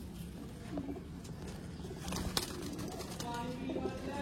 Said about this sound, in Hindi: सियालकोटी बटेरे कबूतर